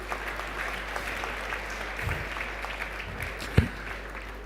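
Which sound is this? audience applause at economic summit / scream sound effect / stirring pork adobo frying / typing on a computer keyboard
audience applause at economic summit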